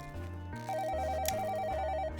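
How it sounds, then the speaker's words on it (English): In the video game Pocket Love, a phone rings with a clear electronic ringtone that trills rapidly back and forth between two tones over a soft background melody, with no speech. "My phone rings right as I'm pinning the lining into my trench coat."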